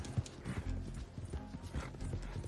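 Hooves clip-clopping in a rhythmic gallop from a horse ridden in a video game, with an occasional whinny, fairly quiet and steady throughout.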